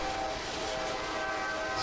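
A train rumbles past at a steady moderate distance, a continuous rolling roar with faint high tonal squeals from the wheels or a distant horn, with no voices.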